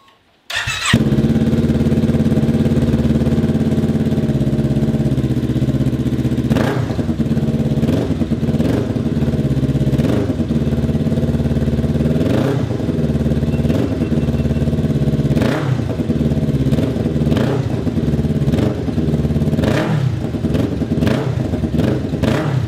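A Kawasaki Z400 motorcycle fitted with a new exhaust fires up after a brief silence, then settles into a loud, close, throbbing idle with several sharp throttle blips and a rumbling exhaust note.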